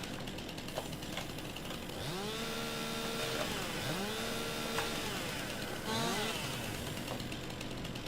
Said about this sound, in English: Maybe I'll try the McCullough chainsaw instead.